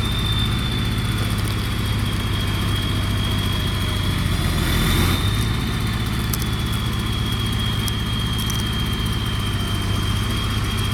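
A backhoe engine runs at a steady idle, a continuous low rumble with a faint high whine, loud and unchanging throughout with no talking.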